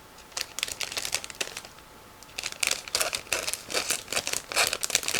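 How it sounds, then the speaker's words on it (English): Crinkly plastic rustles and crackles in bursts, with a brief pause midway before more rapid crumpling and tearing noises, close up and without speech. "it's a sealed plastic bag. So I'm going to open it"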